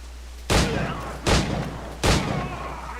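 Three loud, sharp gunshots ring out about three-quarters of a second apart in Assassin's Creed 4 combat, each followed by a short echoing decay over a low steady hum.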